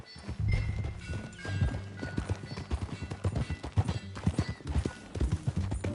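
Horse hooves clip-clop steadily while riding in the video game Red Dead Redemption 2, a brisk close rhythm of hoofbeats with faint background voices.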